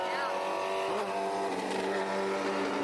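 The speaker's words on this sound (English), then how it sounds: "So we got the ZR1 versus a Hayabusa." A C6 Corvette ZR1 with a manual gearbox races a Hayabusa motorcycle, engine tones droning steadily at high revs with harmonic whine, heard at a distance beneath a talking voice.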